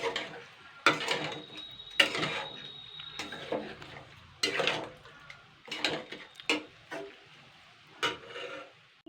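Chicken pieces added to spices in a pot for Bengali curry, then stirred, giving intermittent close scraping and clattering bursts with a soft sizzle between them and no talk.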